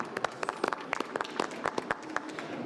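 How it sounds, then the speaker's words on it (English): Applause from a seated conference audience in an exhibition hall session, a steady patter of many hands clapping with some individual claps standing out, fairly distant and even, with no talking over it. "So why not have a round of applause for Thomas at the outset?"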